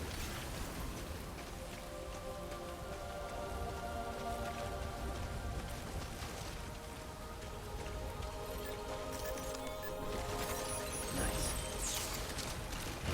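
Steady rain patters across the ground in the Death Stranding video game, a dense, even hiss of falling drops at moderate level that continues throughout, with a faint musical tone underneath.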